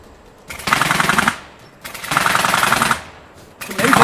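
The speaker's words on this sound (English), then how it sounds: "Doing this with gunfire behind us." Bursts of rapid automatic gunfire rattle in three long strings separated by short pauses, loud and sharp against an otherwise quiet outdoor background.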